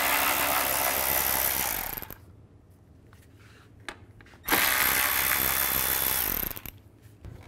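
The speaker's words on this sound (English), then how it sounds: "Take these screws out on both sides" A power driver backs out T25 bumper screws on a 2007-2013 Mini Cooper S, two loud, sustained whirring bursts close up separated by a quieter pause with a few small clicks and clatters.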